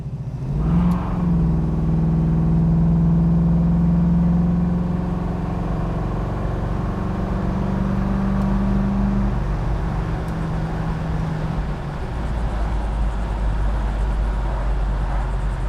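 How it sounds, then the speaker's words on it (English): A 1967 Chevrolet Camaro with a 350 V8 accelerates on the road, its loud, steady engine drone rising and holding as the throttle opens, then easing slightly near the end with no talk over it. "I'm going to give it a little throttle. There's good horsepower, good pickup in this 350."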